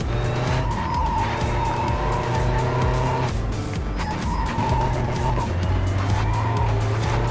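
A diesel race car in the racing game Race 07 drives hard, a loud steady engine drone with repeated tire squeals and skids, and a player talking briefly.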